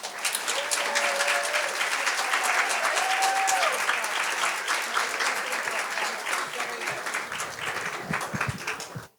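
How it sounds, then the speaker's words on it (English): An audience at a live storytelling event gives a storyteller a big round of applause, dense sustained clapping that stays loud throughout before cutting off at the end, with a voice briefly heard under it. "Let's give Tori another big round of applause."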